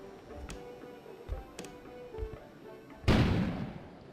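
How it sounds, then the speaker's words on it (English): A sudden loud explosion bursts outside in the video game Kona, a sharp broadband blast with a fading rumble that follows several faint ticks and thumps. "An explosion suddenly occurred outside."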